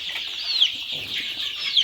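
Tiger chicken chicks on a poultry farm, continuous high-pitched peeping and cheeping from several birds close by, with no talk.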